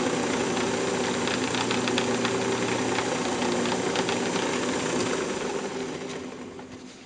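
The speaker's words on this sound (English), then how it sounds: "Then I'll just turn the lathe speed back up" A wood lathe spins a turned wooden magic wand at speed during polishing, giving a steady, dense whir that holds level before easing off and quieting toward the end, with no talking.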